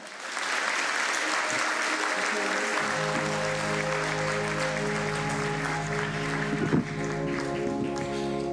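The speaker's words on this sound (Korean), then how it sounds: "앞으로 나오실 때 박수로 한번 환영해 주시기 바랍니다." A church congregation at an Easter service claps to welcome the newly baptised, a sustained dense applause that builds quickly and holds steady, with sustained organ or keyboard tones entering beneath it partway through.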